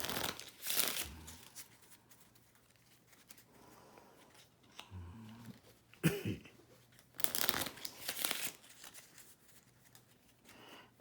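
Playing cards riffle in several quick bursts separated by quiet pauses, close and crisp, with light handling noises between shuffles.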